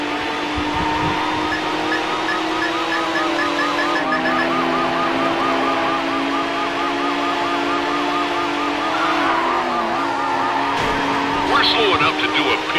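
A silver Mercedes CLK races in a high-speed police pursuit in Need for Speed Hot Pursuit 2, engines droning loudly with a wailing siren over them and a tire squeal near the end, under radio-style talk.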